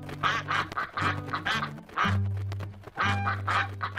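Cartoon ducks on a pond quack in a repeated, tuneful chorus, loud and close, in rhythmic bursts with brief pauses between, with no talk over them.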